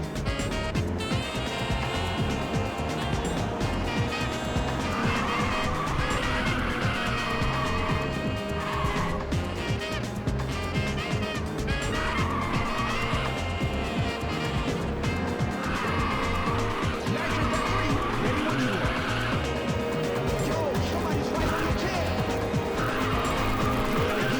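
Ridge Racer on the PSP: a car drifts through a race with sustained, repeated tire squeals over a loud, constant engine roar and driving game music, sound steady throughout.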